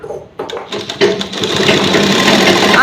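A sewing machine stitches the folded bottom hem of a petticoat, starting with a few hesitant stitches, then running in a loud, steady, close whir.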